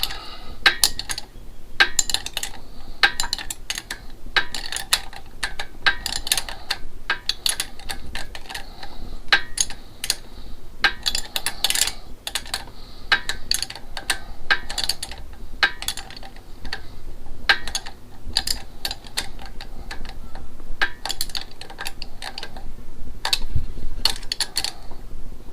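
Repeated light metallic clicks and ticks of a 10mm wrench snugging carburetor nuts on an engine, a steady ratcheting rhythm of short sharp taps, close and fairly quiet with no talking.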